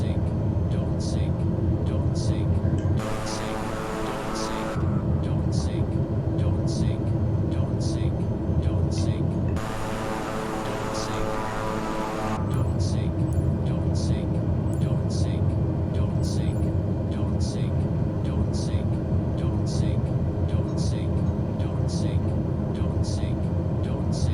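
A Boeing 787 lands in a flight simulator game under crosswinds, its steady low engine rumble continuous throughout, with two brief louder broadband roars swelling in mid-approach.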